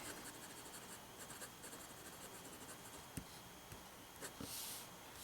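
A Waterman JIF fountain pen with a fine nib scratches across paper, a faint steady scritching of strokes with a few small taps, heard up close in a quiet room.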